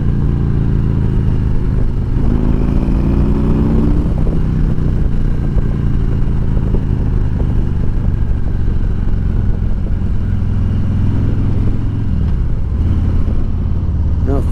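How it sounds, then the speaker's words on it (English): A 2020 Harley-Davidson fitted with slip-on exhausts is opened to full throttle, its loud, close engine roar rising in pitch as it accelerates, dipping briefly and then climbing again in a deep, continuous, rumbling surge. "There's a full throttle."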